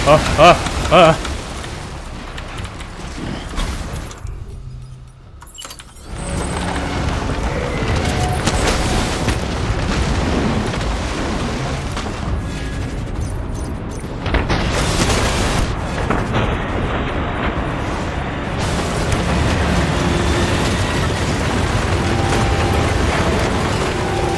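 In the video game Death Stranding, a quadruple rocket launcher sets off loud, rumbling booms and explosions. A dense roar of blasts and debris fills most of the stretch after a short near-silent gap.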